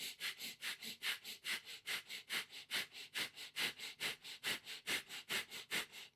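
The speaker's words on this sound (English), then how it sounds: "We are going to introduce through our nose a breath of fire." Rapid rhythmic nasal breathing of breath-of-fire yoga pranayama, steady forceful sniffs through the nose repeating about three times per second, close and alone.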